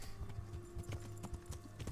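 Hooves of a grey horse clip-clop in steady rhythm in Kingdom Come: Deliverance, a close, even trot under a low background hum.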